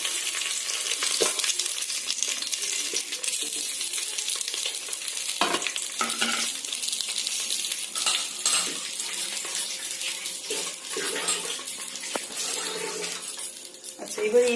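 Potatoes sizzle and fry in a pot of oil for vegetarian jackfruit biryani, a dense continuous hiss with scraping stirs and occasional clatter, close by, while a voice talks over it.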